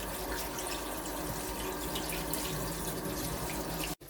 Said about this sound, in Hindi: मैं टैप वाटर रिंस कर दूँगी पास्ता में से